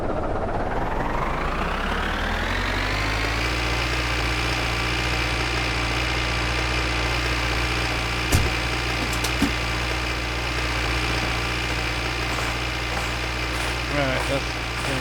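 An idling car engine from My Winter Car drones steadily with a low, even rumble, rising slightly in pitch early on and holding a constant hum, with a few faint clicks near the end.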